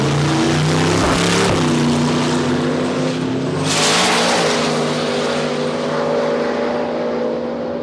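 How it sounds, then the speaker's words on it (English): A drag racing car launches off the start line at Palmyra Raceway in Australia, its engine roaring loud and close, with a sharp burst of revving partway through before the tone settles and the car pulls away. "you could hear him have a quick stab of the pedal just about 40 feet out from the start line"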